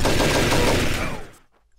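Rapid pistol gunfire in the video game Offensive Combat Redux: a dense, loud burst of shots that stops abruptly after about a second, leaving a short fading tail.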